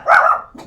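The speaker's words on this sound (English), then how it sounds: "My neighbor's really loud. Makes my dogs bark." A single short burst of loud, close dog barking from more than one dog set off by a noisy neighbor, with a brief softer yip trailing at the end.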